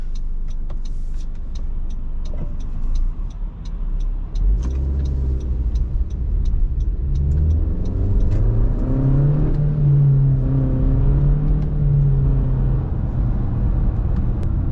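A 2022 Honda CR-V's 1.5-litre engine hums, then revs up into a rising roar as the vehicle accelerates on the road, loud and close throughout, with no talking.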